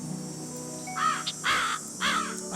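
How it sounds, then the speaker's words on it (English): Crows caw in the Nancy Drew: Ghost Dogs of Moon Lake game, three harsh, drawn-out calls spaced about half a second apart over a steady insect-like hum, with no talking. "I hear crows."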